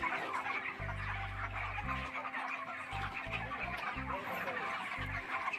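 Chickens cluck repeatedly inside a lit poultry shed, mixed with a constant hum of fans or machinery, the clucks coming in short stuttered bursts near and far, with no talk.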